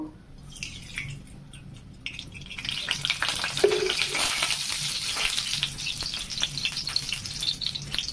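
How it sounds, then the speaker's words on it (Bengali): Hot oil in a cooking pan, sizzling and crackling up close. It starts quiet with scattered pops, then swells into a dense, steady frying hiss full of spattering crackles. "তেলটা দেখতেই পাচ্ছেন গরম হয়ে এসছে।"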